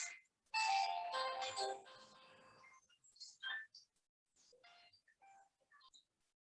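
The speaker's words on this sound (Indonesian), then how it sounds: "Kalau di telepon ya mau nggak mau diangkat." A telephone rings with a short electronic tonal melody lasting a couple of seconds, fairly faint, followed by scattered quiet beeps and a few bits of speech.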